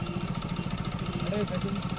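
A motorcycle engine idles steadily and close by on a road at night, its low rumble running the whole time while a voice speaks over it.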